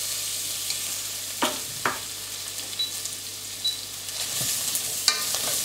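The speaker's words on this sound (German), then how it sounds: "Das Gemüse ganz klein wenig anschwitzen, aber bitte nur anschwitzen, nicht bräunen" Finely chopped vegetables sweating gently in oil in a pot for fish stock, a steady soft hiss of frying with a few sharp spoon clinks and stirring scrapes.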